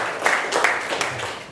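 Audience applause in a lecture hall during a university public lecture, a steady dense clatter of many hands clapping at fairly high volume, with faint voices mixed underneath.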